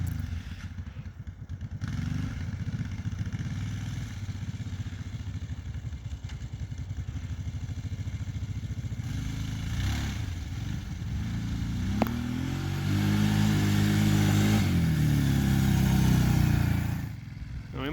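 Kawasaki Brute Force 750 ATV runs with a rough, uneven engine note during a test ride after carburetor work, rising to a louder rev near the end; a voice speaks briefly.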